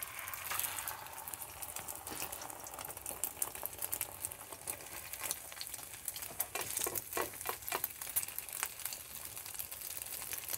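Egg-dipped tortillas frying in hot oil in a pan, a steady dense crackle and sizzle running throughout with scattered sharper pops, close and continuous with no talking.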